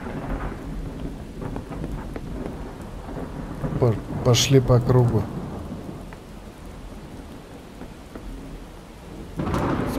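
Rain with rolling thunder in the survival video game Miscreated, a steady wash of rainfall throughout with a louder thunder rumble swelling near the middle and another burst at the end; someone speaks briefly.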